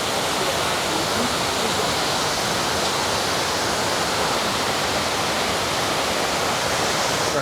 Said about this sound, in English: It's this really cool water feature here.